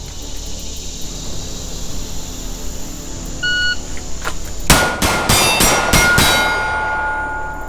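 A shooter fires a fast string at six small steel targets, the impacts ringing out as a quick burst of sharp, loud clangs after a quieter stretch with a few beeps.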